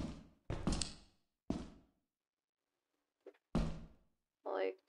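A secure door opening in Lethal Company, a few heavy clunking thuds with short ringing tails in a quiet setting, with a voice talking in between.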